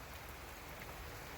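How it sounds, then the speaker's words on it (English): Steady rain falls outdoors, a soft, even patter of drops hitting surfaces that holds faint but constant throughout. "It's raining out today, so if you hear it's raining."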